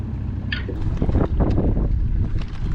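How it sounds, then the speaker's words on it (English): Loud outboard engine of a small fishing boat running on a big river, a steady low rumble mixed with wind buffeting the microphone and water noise throughout. "I'm not gonna hit fish with this loud engine in this small area."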